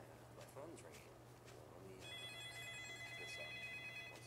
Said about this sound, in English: Why is there a phone ringing?